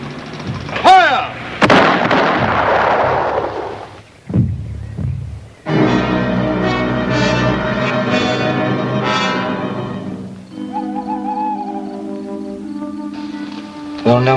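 Gunfire in a film scene: two sharp shots at the start, then a shorter blast, followed by sustained ringing, bell-like tones and music. Loud and close, with voices briefly present.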